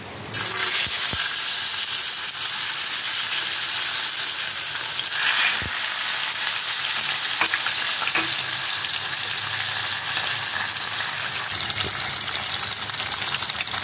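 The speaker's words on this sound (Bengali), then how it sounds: "এখন আমি মাছটা কড়াইতে দিয়ে ভেজে নেব" Fish fries in hot oil in a wok, giving a loud, dense, unbroken sizzle that lasts throughout, with a few sharp pops and clicks scattered across it.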